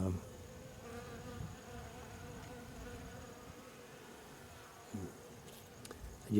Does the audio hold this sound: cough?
no